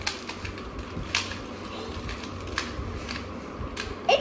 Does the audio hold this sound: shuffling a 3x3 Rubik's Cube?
yes